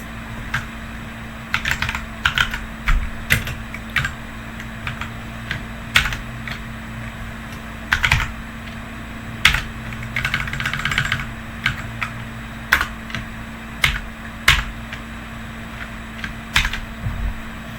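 Python code being typed on a computer keyboard, with close key clicks in irregular bursts and pauses over a steady low hum.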